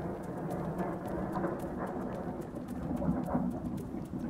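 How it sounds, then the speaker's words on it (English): Steady rain pattering on a surface, with a low rumble of thunder beneath and scattered drop impacts throughout, continuous and fairly close, with no talking. "The raindrops are like falling on the surface."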